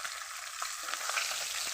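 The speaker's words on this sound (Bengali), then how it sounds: "মাছের মাথা ভাজা হয়ে গেছে" Katla fish head frying in hot oil, a steady close sizzle with small pops and crackles throughout, no voices.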